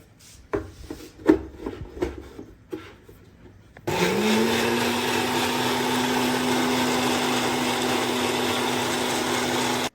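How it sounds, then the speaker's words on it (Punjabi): Electric blender whirring through milk and sugar for a milkshake, starting abruptly after a few soft clinks and handling noises, then running as a steady, loud, close drone until the end. "ਤੇ ਹੁਣ ਆਪਾਂ ਇਹਨੂੰ ਚੰਗੀ ਤਰ੍ਹਾਂ ਕਰਨਾ ਬਲੈਂਡ"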